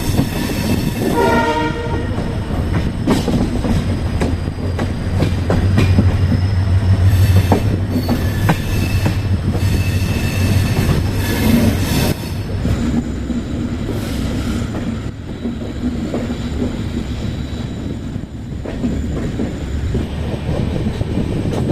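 Dehradun Kathgodam Express rolling along the tracks just after leaving Haldwani station, a steady loud rumble of the train carriages with wheel clatter and squeal, a horn sounding early on, continuous throughout.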